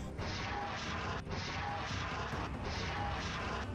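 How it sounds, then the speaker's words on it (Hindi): Hezbollah fighter launching a 302 mm Nasir-2 rocket: a loud, continuous roaring blast that fills the whole stretch, with a couple of brief sharp bursts breaking through. "और इसके बाद हिजबुल्लाह का लड़ाका इन रॉकेट्स को फायर कर देता है"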